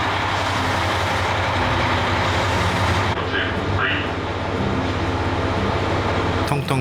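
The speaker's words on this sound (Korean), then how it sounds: "4시 48분에 출발해서 온 열차입니다." A JR local train on Kyushu's southern line pulls into tiny rural Nishi-Oyama station, a steady loud rumble of wheels and motor that lasts throughout, easing near the end, with faint voices in the background.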